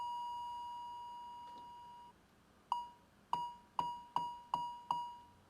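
An Ableton Operator synth tone with a long release: a pure sine-like beep rings on and slowly fades. It is followed by a series of quicker repeated plinks, each with a gently decaying tail, all fairly quiet and without speech.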